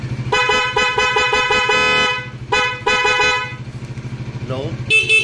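The horn of a Suzuki Raider Fi 150 motorcycle sounds in a quick series of short, bright honks followed by longer blasts, loud and close over a low engine idle, ending with a final toot.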